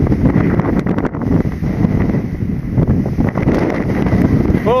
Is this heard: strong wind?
yes